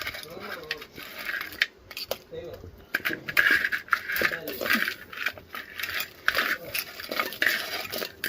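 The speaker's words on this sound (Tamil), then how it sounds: "இந்த நண்டை வந்து நாங்கள் இப்போ போடுவோம்" Crab pieces dropped into a pot of bubbling curry, with scattered clinks and scrapes of a spoon against metal cookware and a voice talking over the clatter.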